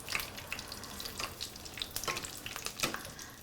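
A chile relleno pepper fries in hot oil, giving a soft, continuous sizzle with scattered small pops and crackles of spattering grease, faint and close.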